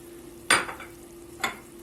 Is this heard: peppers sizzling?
yes